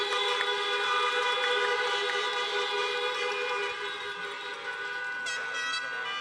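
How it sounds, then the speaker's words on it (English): Car horns honk steadily together in a sustained chorus of tones at an outdoor high school graduation ceremony, loud and continuous, with another horn blast cutting in near the end. "one more round of honking for Alexis Guido and Nicholas Gu"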